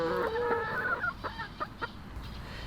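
Backyard chickens cluck and murmur nearby. A drawn-out, rooster-like call opens, followed by a few short clucks over light background noise.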